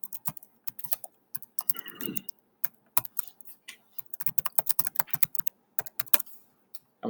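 Typing on a computer keyboard, quick irregular clicks of individual keys, close and fairly quiet, with a brief soft rustle in between and no talking.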